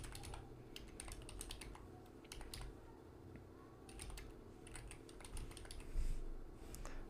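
Fingers tap steadily on a computer keyboard while renaming files, giving a quick run of light, close clicks with brief pauses.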